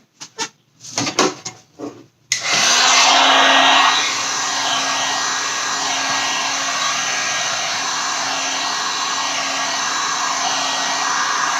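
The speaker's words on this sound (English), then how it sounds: "This is my heat gun." A heat gun drying a primed canvas switches on after a few clicks and handling sounds, then blows with a loud, steady whooshing roar that settles into a constant hum.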